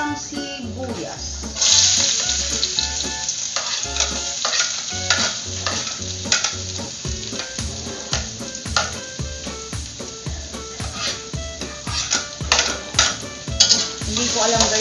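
Onions fry in a pan for chaopan with a steady sizzle, broken by frequent scraping and clinking of a utensil against the pan; a voice talks now and then.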